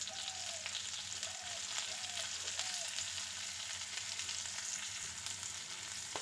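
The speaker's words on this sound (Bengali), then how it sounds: "পেঁয়াজটা হালকা ভেজে নেব।" Onion frying in a pan alongside lightly browned potatoes, cooking for a betho greens dish: a steady, even sizzle and crackle that holds at a moderate level throughout, with faint stirring and no talk.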